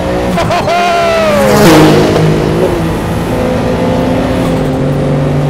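A Porsche 962 race car engine revs hard and climbs in pitch, then drops as the gear changes into fifth, followed by a lower, steady engine drone.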